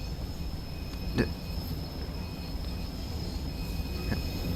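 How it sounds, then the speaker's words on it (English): A steady rumbling steam train ambience from the video game Train Sim World 2, with a faint high whistle tone, broadband noise throughout and a couple of brief clanks or squeals. "I know there's a train"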